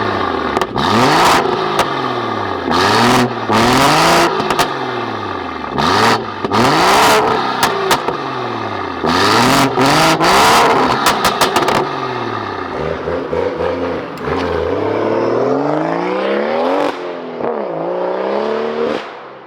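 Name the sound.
stage 3 manual BMW M140i engine starting and revving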